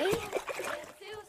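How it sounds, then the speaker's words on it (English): A stone tossed into water in Kingdom Come: Deliverance II lands with a short splash and brief trickle, fairly close, partly under a man's speech. "Throw a stone in the water near her to lure her away."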